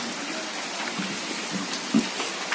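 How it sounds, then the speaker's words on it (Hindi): Heavy rain falls around a veranda as a dense, steady hiss, with a few soft thuds of nearby drops standing out briefly. "बहुत बारिश हो रहा है"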